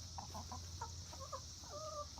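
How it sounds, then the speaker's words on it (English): Several chickens from a backyard flock of ten cluck and chatter close by in short, rhythmic bursts over a steady low background hum, with no talking. "I have 10 chickens."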